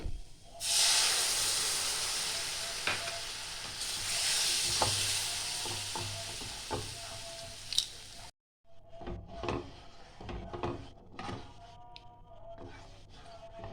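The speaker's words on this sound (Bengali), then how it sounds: "এবার দিয়ে দেবো দুধ।" Milk poured into lightly browned flour and butter in a pan for white sauce, a loud steady hiss and sizzle with stirring scrapes, then a brief cutoff followed by softer bubbling and intermittent spoon clinks near the pan.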